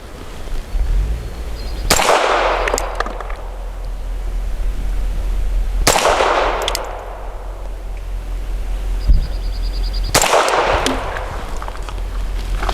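A Grand Power K22 X Trim .22 pistol fires subsonic rounds: three sharp, loud shots spaced about four seconds apart, each trailing off in a short outdoor echo.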